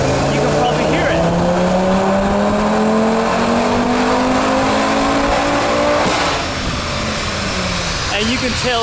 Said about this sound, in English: Here I've got a nice GTR and Bob's dyno here